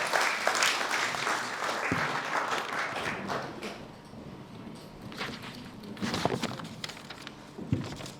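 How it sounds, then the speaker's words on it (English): Audience applause at a Clan Gunn chief recognition ceremony, sustained clapping that fades slightly midway and then swells again with a few sharper individual claps and some shuffling underneath. "Round of applause, please, ladies and gentlemen."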